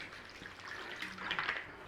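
A faint, brief stream of water trickles and splashes into a pan with butter, quiet and close.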